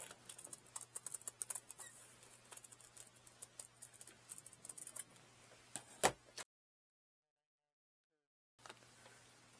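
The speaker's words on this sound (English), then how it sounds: "I'm going to fold this in half and cut the curve." Scissors cut a curve through folded wallet material: soft, close snipping and scratching clicks in an uneven run over a low steady hum, followed by a few seconds of silence before the hum returns.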